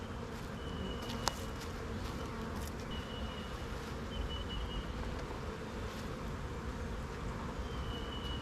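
Honey bees around a newly installed hive fill the air with a dense, continuous buzzing, close and steady throughout, with a single sharp tap partway through.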